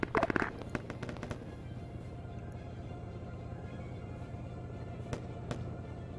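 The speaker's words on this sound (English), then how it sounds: "They're shooting through the trees that none of us can see." Gunfire crackles through a dense jungle in the video game Arma 3: a quick burst of sharp reports at the start, then scattered distant pops over a steady ambient hum.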